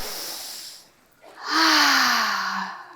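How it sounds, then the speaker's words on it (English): A crowd at a wedding business conference takes a deep breath together, a long soft inhale followed by a broad, loud exhale that swells and slowly fades, with no talking. "Let's take a deep breath, everyone."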